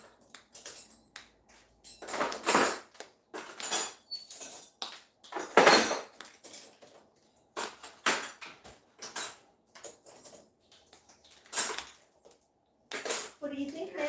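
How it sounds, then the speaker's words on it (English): Metal cutlery clangs and clinks in a series of sharp, irregular bursts as it is loaded into a dishwasher, close and fairly loud with short quiet gaps between handfuls. "So I'm loading the cutlery here, a little bit clanging."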